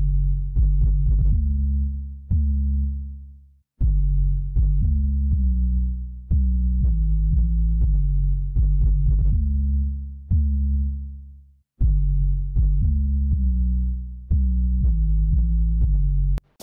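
An EQ'd sub bass played through the GarageBand sampler thumps out a rhythmic pattern of deep sliding notes, each phrase decaying before the next, loud and alone with no voices.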